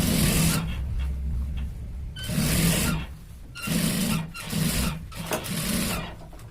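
A sewing machine stitches a shirt in several short runs of rapid mechanical whirring and clatter, each lasting about a second, separated by brief pauses.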